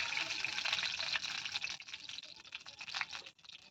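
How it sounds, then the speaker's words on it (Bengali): Cooking oil poured into a pan while making a gram-flour and rice-flour chop, a soft, continuous liquid hiss and trickle, close and fairly faint, alone without talk. "দেখুন তেলটা আমি দিয়ে দিই তেলটা তখন গরম হতে থাকে"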